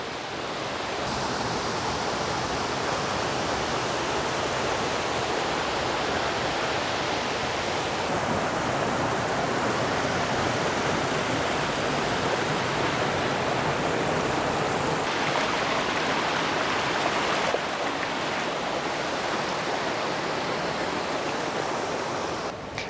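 Wild Creek Falls in Beltzville State Park roars as a steady, loud, broadband rush of falling water heard up close, unbroken throughout.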